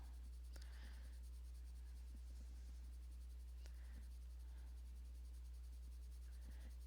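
Oil-based coloured pencil layers a second colour over paper, a soft, faint scratchy scraping in short repeated strokes against a steady low hum.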